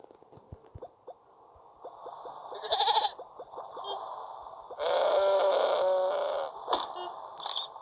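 A goat in the video game Crossy Road bleats in short, clear calls, a couple of them in sequence, set against sparse game sound effects and with no talking.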